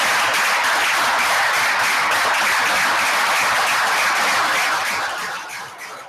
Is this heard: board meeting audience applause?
yes